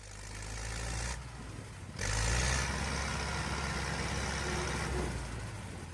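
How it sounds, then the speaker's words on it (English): A heavy bulldozer engine roars as it strains to pull a Kamaz truck stuck on a winter road under construction, a loud continuous diesel drone that briefly drops then surges back and holds steady. "The bulldozer will pull it out of here."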